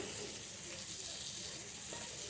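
Spices sizzle steadily in hot oil in a pan while cooking an egg and pointed gourd curry, a close, continuous frying hiss with faint stirring and no talk.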